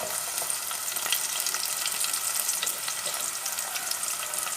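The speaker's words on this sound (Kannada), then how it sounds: "ಈಗ ಒಂದು ಕಡೆಗೆ ಎಣ್ಣೆ ಹಾಕಬೇಕು, ತೆಂಗಿನ ಎಣ್ಣೆ. 3 ಈರುಳ್ಳಿ ಹಾಕಬೇಕು," Onions, ginger and garlic fry in coconut oil for kadai paneer, producing a dense, even crackling sizzle that holds steady and close for the whole stretch, with no voices.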